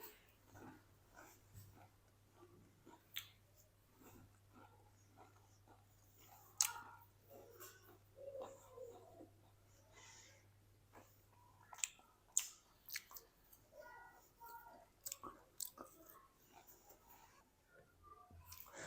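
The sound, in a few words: chewing crispy potato semolina snacks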